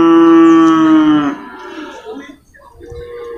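Imported cattle at the Purwakarta livestock market: one long, loud, close moo that falls in pitch, followed by faint market noise and soft murmurs.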